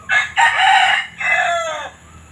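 A 7-month-old backyard rooster crows once up close, a loud, clear cock-a-doodle-doo in two strained phrases.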